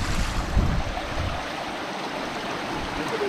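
Forest stream water flowing steadily in a steady, close wash of rushing water, continuous and fairly loud, with no talk.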